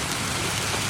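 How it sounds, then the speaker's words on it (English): Hail coming down hard on a road in Greeley: a dense, steady, loud hiss of countless close impacts with no pauses and no voices. "Look at all this hail."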